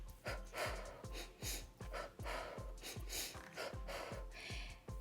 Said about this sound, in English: and then the rapid breathing